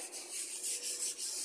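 Sandpaper rubs lightly over rough wood before sealer goes on, in a woodworking and spray-finishing shop. Steady back-and-forth strokes sound close and clear, with no talk.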